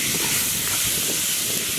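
Onions and tomatoes sautéing in a pan with rock salt, heard as a dense, even hissing sizzle that stays loud and close throughout the short stretch.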